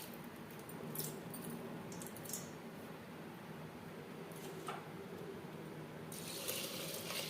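Water poured into a pressure cooker holding dal and old atap rice for vegetarian khichuri, a faint, steady liquid rush and trickle with a few brief splashy bursts.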